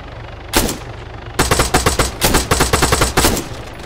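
Automatic gunfire in the military shooter Arma 3: a single early burst, then dense rapid volleys of loud, close shots in several clusters.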